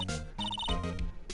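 A telephone rings in the Phoenix Wright: Ace Attorney video game, quick bursts of electronic trilling heard clearly over background game music.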